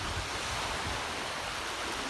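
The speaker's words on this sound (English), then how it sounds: "Look at the waves. Look at the water." Ocean surf breaks along the shore at the south end of Marco Island on a slightly rough sea with the tide still coming in, a steady, full wash of water with some wind noise across the microphone.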